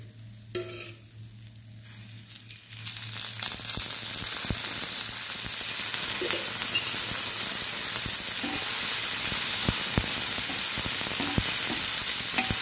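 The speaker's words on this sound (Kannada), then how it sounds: "ಸ್ವಲ್ಪ ಎಣ್ಣೆ ಹಾಕ್ಕೊಂಡು ಹುರಿತಾ ಇದ್ದೀನಿ." Flat beans sizzle and fry steadily in a little hot oil in a pan over medium flame, a constant crackling hiss with occasional stirring clicks, close and fairly loud.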